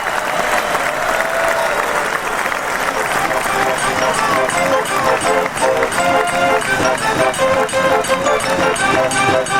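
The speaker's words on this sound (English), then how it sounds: "we want to give a nice round of applause once again" A crowd delivers a sustained round of applause, loud and close, with thick continuous clapping and a murmur of voices running beneath it from start to finish.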